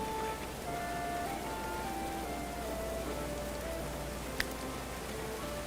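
Rain falls steadily in a soft, continuous hiss, faint and even throughout, with one brief sharp tap near the end.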